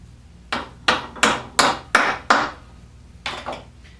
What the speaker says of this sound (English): Spread it around in the hole. Get it started. Tap it in.